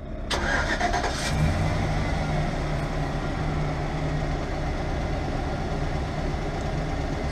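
A car engine cranks briefly and catches, then settles into a steady, loud idle rumble that continues close by without any talk.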